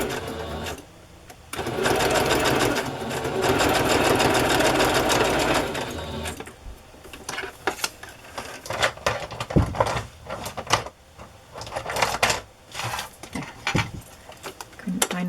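Sewing machine running in bursts while stitching black thread through paper and fabric pieces for craft clusters, a sustained loud whir for several seconds followed by shorter stop-start runs and clicks, close up.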